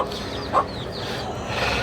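A broody Gurk hen out in the yard with her chicks among the flock, giving soft clucks with one brief louder cluck and faint chirping nearby, over a light outdoor background.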